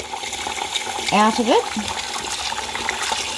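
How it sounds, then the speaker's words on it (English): Rice being washed in warm water in a bowl for Thai green papaya salad gives a continuous watery swishing and sloshing, with a voice speaking briefly over it. "First we need to wash the rice in some warm water."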